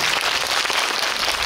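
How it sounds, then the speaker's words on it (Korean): Audience applause for a film director at a Korean movie screening event, a dense steady wash of clapping filling the short stretch with no talk over it. "감독님 다시 한번 큰 박수."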